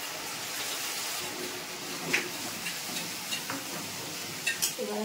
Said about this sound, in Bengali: তো এবারে আমি এখন পিউরি টমেটো পিউরিটা আমি দিয়ে দেবো